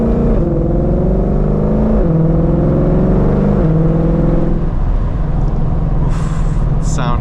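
A Ford Mustang Shelby GT500 with a dual-clutch transmission accelerates hard, its loud engine climbing in pitch through several quick upshifts before settling into a deep rumble. Brief higher whooshes come at the end.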